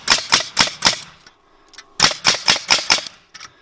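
A framing nailer fired in bump mode drives nails in two quick bursts of four to five sharp pneumatic cracks each, close and loud, separated by a short pause with faint clicks.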